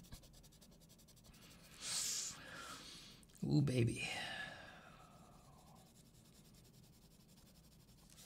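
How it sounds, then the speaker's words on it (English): Pencil scratching across sketchbook paper while hatching, a soft rasping stroke that rises briefly and fades, with a murmuring voice alongside. "Sound of the pencil scratching the paper."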